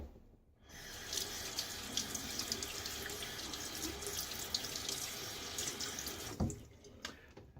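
Tap water runs steadily into a sink while a safety razor is rinsed, a close continuous splashing hiss with brief clinks and knocks near the end.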